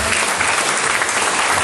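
Loud, dense applause from an audience at a lecture session, a continuous close wash of many clapping hands with no break and no talking.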